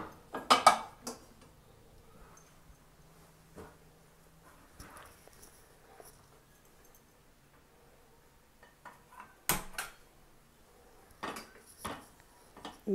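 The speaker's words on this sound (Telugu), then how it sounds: "స్టవ్ వెలిగించుకొని దాని మీద ఒక ప్యాన్ పెట్టుకోవాలి." A metal pan clatters onto a lit gas stove, with a few sharp clanks and scrapes separated by quiet gaps, close and fairly soft, with no talking.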